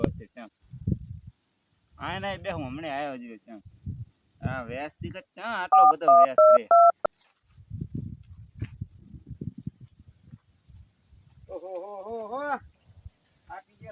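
A quick run of four telephone keypad beeps sounds between stretches of people talking, with a few quieter knocks and clicks.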